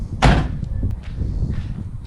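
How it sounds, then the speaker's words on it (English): A car door slams shut once, close by and loud, then only a low rumble and faint rustling follow. "While he slams the door"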